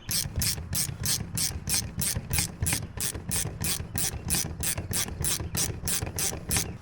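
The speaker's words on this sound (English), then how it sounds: "Let me get some wrenches to tighten that down first." A ratchet wrench tightening a fitting on a homemade hydroseeder, clicking in a fast, even series of ratcheting strokes, close and steady with no talking.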